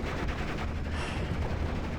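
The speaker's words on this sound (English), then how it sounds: "MG34 is still going." An MG34 machine gun fires in the Normandy 1944 video game Steel Division, a dense, continuous roar of rapid gunfire at steady loudness for the whole two seconds.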